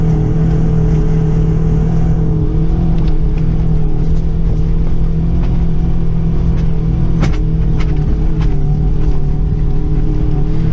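A UAZ Patriot (2019+ model) engine drones steadily and loudly while driving off-road in fourth gear, a continuous close rumble with slight variations in load and no talk.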